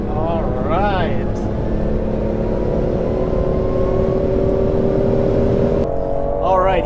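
A car driving up the entry ramp onto the German Autobahn, with a steady engine drone and road rumble filling the cabin and the engine note climbing gradually as it accelerates, heard from inside the car.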